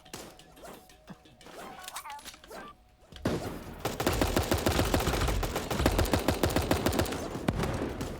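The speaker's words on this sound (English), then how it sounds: "I can hear shooting up there." Gunfire in Super Animal Royale: a few sparse distant shots and thuds, then loud, dense, rapid bursts of automatic fire that carry on without a break.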